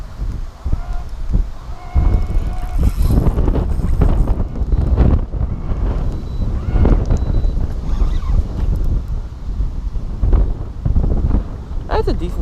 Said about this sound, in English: This wind has got me bad.